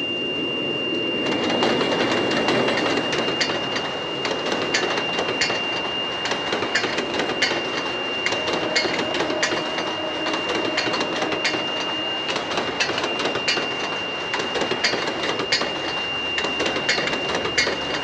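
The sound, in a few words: train approaching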